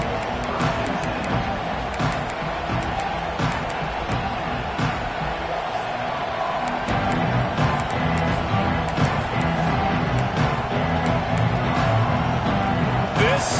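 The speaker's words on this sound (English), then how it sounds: "This crowd ready to make its presence known" Dense, steady roar of a packed college football stadium crowd at a Texas A&M versus UCLA game, a constant wash of cheering with distant shouts and a commentator's voice faintly underneath.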